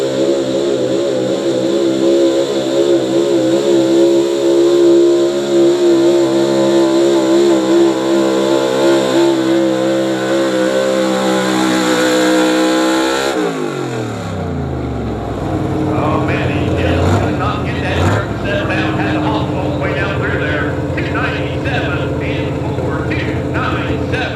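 A truck or tractor engine at a Southeastern Ohio Pulling Series truck and tractor pull in New Lexington, Ohio, roars loud and sustained, then its pitch swoops down sharply as it revs off, while an announcer talks over the noise.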